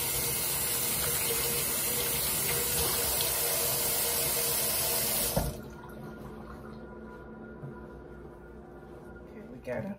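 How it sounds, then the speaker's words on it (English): Tap water runs steadily into a sink as hands are washed for food preparation, a loud, continuous splashing rush for about five seconds that then cuts off abruptly, leaving quiet room tone with small clinks. "I just have to wash my hands before I handle any of this food."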